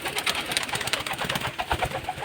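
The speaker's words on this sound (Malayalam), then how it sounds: "ഇവരൊക്കെയാണ് നമ്മുടെ കൂട്ടത്തിലുള്ള പ്രാവുകൾ." Pigeons cooing inside a loft, including a black short-faced pigeon, a close, continuous soft murmur of overlapping coos with no talking.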